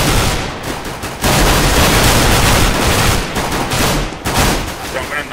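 Shotgun blasts in a first-person video game, loud and close, firing as a rapid run of overlapping bursts with brief lulls in between.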